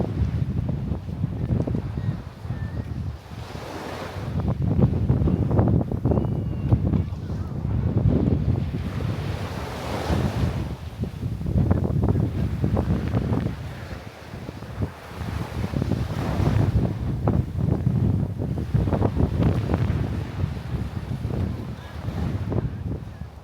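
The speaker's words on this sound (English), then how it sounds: "Take in the ocean waves." Ocean waves break and wash up on a beach in Aruba, a steady rolling roar that swells and recedes every few seconds, with wind buffeting the microphone throughout and no voices.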